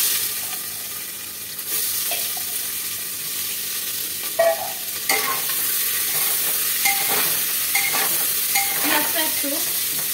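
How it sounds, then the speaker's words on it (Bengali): Whole garam masala spices sizzle and fry in hot oil while being stirred in a pan for a Bengali goat curry, steady frying hiss with scattered scraping stir sounds and small pops throughout. "এটাকে একটু আমি নাড়াচাড়া করবো, একটু ভাজা ভাজা হবে।"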